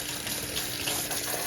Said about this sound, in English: First thing I do, run some hot water.